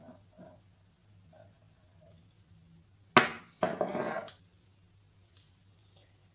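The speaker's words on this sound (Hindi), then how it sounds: "तो अब मैं बीच में से इसको काटूँगी" Knife slicing through thin rolled samosa dough on a board: a sharp cut lands suddenly, followed by a short scraping stroke, close and distinct against a quiet kitchen with a low hum.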